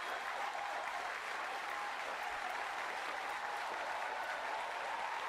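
A church congregation claps continuously, a thick even wash of many hands that holds steady from start to finish with no pauses.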